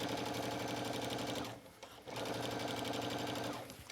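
A serger runs at high speed stitching a zipper onto a pant leg, a dense mechanical whir that stops briefly, restarts and then winds down near the end.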